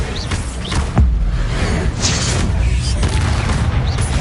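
A Bombarda blasting spell in Hogwarts Legacy goes off as a loud, close boom with a sharp onset, followed by a dense rumbling tail of debris and combat noise.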